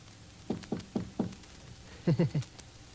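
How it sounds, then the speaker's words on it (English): A radio drama sound effect of knocking on a door: two sets of firm knuckle raps, four even knocks, a pause, then three quicker ones, heard alone in a quiet room. "And knock on the concierge's door."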